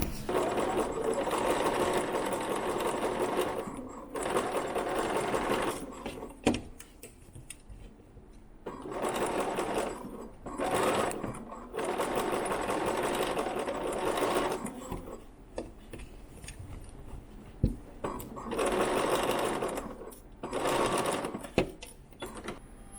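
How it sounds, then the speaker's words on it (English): A sewing machine runs a 1 cm seam on linen for a pullover top, in several long steady bursts separated by short pauses, loud and close. "I'm going to go ahead and just sew this seam 1 centimeter"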